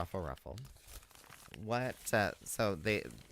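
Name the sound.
crinkling paper bag being ruffled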